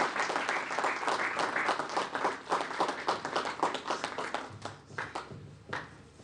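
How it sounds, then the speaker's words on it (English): Audience applause at a Project Management Institute annual conference, honouring the chapter president: dense, steady clapping from a sizeable crowd that thins and tapers off toward the end. "we need to give a round of applause for our wonderful president"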